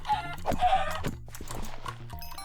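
Chicken clucking in the video game Minecraft, a few close, short clucks and squawks with a quick rhythm over a soft background.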